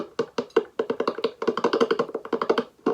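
Tapping on a homemade diddley bo built from a tennis racket, amplified through a small amp: a quick run of sharp, close taps in an uneven rhythm, loud and alone.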